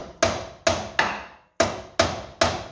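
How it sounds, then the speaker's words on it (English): Six sharp hammer strikes seat a ball joint into an A-arm on a 1983 Buick Regal, ringing metallic hits in an irregular rhythm with short decays, loud and close, with no talking. "Now let's pop in the ball joint. Give it a couple hits."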